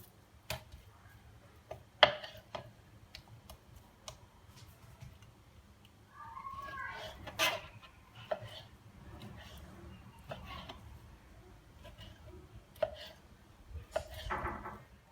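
A knife cuts lamb meat into bite-sized pieces for shish kebab, sounding as scattered, faint, sharp taps on a board, separated by irregular pauses, with light handling noise in a quiet room.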